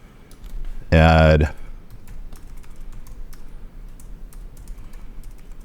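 Rapid clicking keystrokes on a computer keyboard, steady and close, with a brief loud tonal beep near the start.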